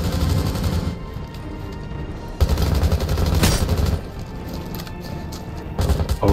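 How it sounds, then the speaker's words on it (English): Gunfire at a window during Rainbow Six Siege play, with a steady stream of shots and a louder burst partway through. The shooting sounds fairly close and dense and is heard on its own. "they're shooting at that window"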